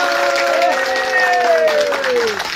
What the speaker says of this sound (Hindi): इसके लिए आप सब एक बार जोरदार तालियां प्लीज